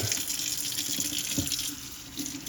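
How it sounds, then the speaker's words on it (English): Tap water runs steadily into a single kitchen sink while a sponge is rinsed, a close continuous splashing stream with small shifts as the sponge moves through it. "Rinse the sponge one more time."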